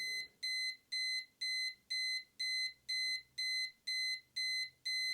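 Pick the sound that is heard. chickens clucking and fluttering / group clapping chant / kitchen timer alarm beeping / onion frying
kitchen timer alarm beeping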